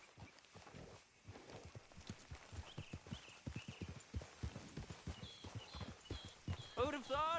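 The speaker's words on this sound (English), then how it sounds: "Grab your horse and let's go." Video game horse hooves clip-clop in a steady walking rhythm in Red Dead Redemption 2, close and clear, while a person speaks over them; a horse snorts briefly near the end.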